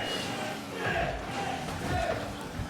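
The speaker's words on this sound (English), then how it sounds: "Cheers erupting from the crowd as a beautiful shot finds its way in." A crowd cheers and roars at an esports LAN grand final as a goal goes in, a dense sustained wash of voices swelling twice over a few seconds, with caster-like talk blended into the noise.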